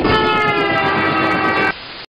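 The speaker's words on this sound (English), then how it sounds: "I like trains." A train sounds a loud, harmonic horn-like blast lasting under two seconds, then cuts off abruptly.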